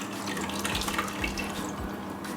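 Curd mixture poured through a strainer, the liquid running through in a steady wet splashing stream, close and fairly loud, with faint low thuds as it lands.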